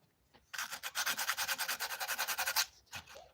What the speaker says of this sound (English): I'll keep sanding down, keep pushing.